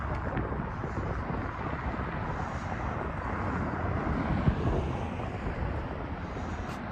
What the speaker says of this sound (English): Kind of windy, sorry about that.